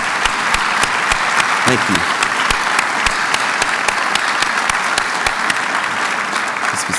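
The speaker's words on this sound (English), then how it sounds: "Let's give them a round of applause." Sustained audience applause at a university State of the University address, dense steady clapping filling the hall with someone briefly speaking over it.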